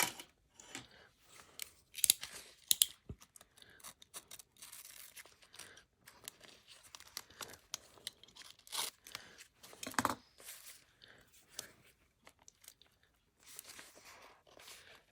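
A knife slits open a package in a quiet room, giving a string of short, scratchy cuts and crinkling tears at close range, unevenly spaced with brief pauses between them.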